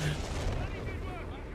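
An artillery barrage in a strategy video game, low rumbling booms rolling continuously at moderate distance, with commentators talking over them.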